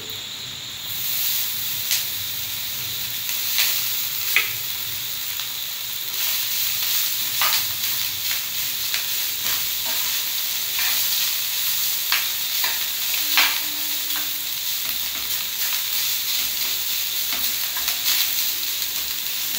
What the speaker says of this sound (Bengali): এর মধ্যে আমি ভাতটুক দিয়ে দিই।